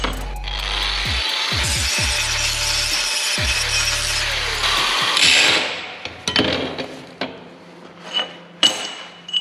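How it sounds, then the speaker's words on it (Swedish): A power grinder scrapes mill scale off steel for welding a hook-lift container, a steady loud abrasive whine with brief interruptions, then it stops and scattered metallic clanks and handling knocks follow. "Man får slipa bort det här glödskalet"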